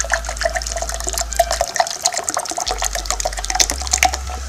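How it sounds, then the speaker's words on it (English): A homemade sparkling lime and lemon juice drink is poured back out, giving a steady splashing, gurgling trickle with small drips, close and fairly loud throughout. "See, we'll pour that back out."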